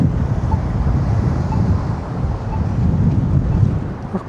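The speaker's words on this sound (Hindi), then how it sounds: "काफ़ी ठंडी हवा चल रही है" Cold winter wind blows steadily at a Toronto street intersection at night. It is a constant low rumble and buffeting against the microphone, with no clear traffic or voices.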